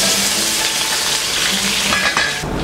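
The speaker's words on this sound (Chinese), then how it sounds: "好了，油热了，我们把葱放进去" Chopped scallions dropped into hot oil for Chaoshan casserole porridge, frying with a loud, dense, continuous sizzle up close and a faint clatter of the pan near the end.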